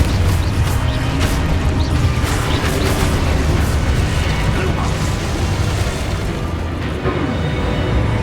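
Confringo blasting spell explosions go off in the Hogwarts Legacy video game, loud dense booms and crashing bursts layered over continuous game music and effects with no pauses.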